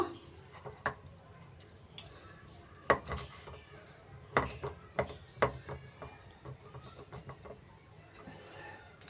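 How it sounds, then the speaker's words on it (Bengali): Lid being set on a kadai while cooking mocha vapa, a few sharp metallic clinks and taps spread over several seconds, fairly close and not loud, over quiet room tone. "কড়ায় ঢাকাটা দিয়ে দিলাম"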